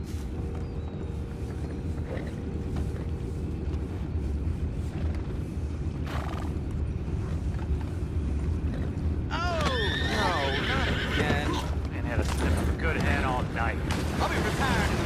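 Horses in Red Dead Redemption 2 give a clear, shaky neigh midway through, over a steady bed of hoof and ambient game noise, with characters talking around it.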